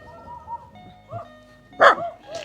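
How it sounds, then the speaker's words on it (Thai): Dogs in a small mountain village beside a river, with a few scattered barks and one loud sharp bark near the end standing out over a quiet background. "แต่มาหลายเสียงเห่าสนั่นหวันไหว"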